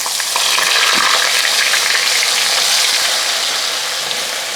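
Potato pieces deep-fry in hot oil, giving a close, steady, hissing sizzle that stays loud and even throughout without any talking.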